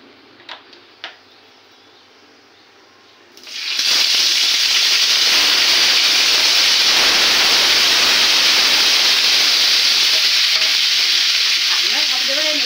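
Spices hit hot oil in a home kitchen pan and burst into a loud, dense sizzle that holds steady for about nine seconds. It follows a quiet start with a couple of faint clicks, and nobody speaks.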